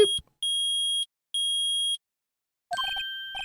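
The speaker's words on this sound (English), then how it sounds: "I permit the use of the metal detector." A metal detector in the Phoenix Wright courtroom game gives a clean electronic tone, first sounding in two long sustained beeps, then a burst of quick varied blips and chimes signaling a detected metal object.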